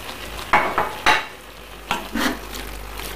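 Carrots stir-fried in a pan for yakisoba, with a steady sizzle under several scraping, stirring strokes of a utensil that come in short bursts, close and clear, with no talking.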